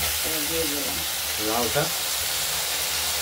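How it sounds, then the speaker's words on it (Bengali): Drained bottle gourd goes into a hot kadai with fried shrimp for lau ghonto, giving a steady broadband sizzle and hiss of frying. A voice talks briefly over it. "এই লাউটার জলটা ছেঁকে ফেলেছি, আমরা কড়াইতে দিয়ে দেবো।"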